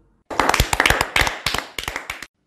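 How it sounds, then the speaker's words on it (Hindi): A short burst of children clapping during a kids' program, a few sharp, loud, close claps in a quick irregular rhythm that stops abruptly after about two seconds. "सब तालियां बजाओ"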